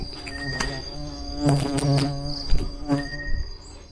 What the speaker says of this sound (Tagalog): Bubuyog.